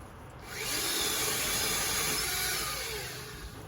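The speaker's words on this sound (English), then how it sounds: "The pole saw I'm using is made by Oregon" An Oregon pole saw cuts through tree limbs, giving a steady rasping, buzzing cut that swells in after a quiet start, holds for a few seconds, then fades slightly.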